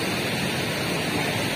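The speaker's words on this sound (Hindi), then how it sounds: "यहाँ पर काफ़ी स्पीड से पानी चल रहा है" Fast-flowing canal water rushing past at speed, a dense, even hiss filling the whole short stretch with no pauses or voices.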